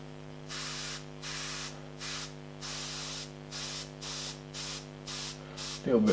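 An airbrush spraying paint mist onto a pet portrait sounds as a series of short soft hissing bursts of about half a second, steady and close over a faint background hum.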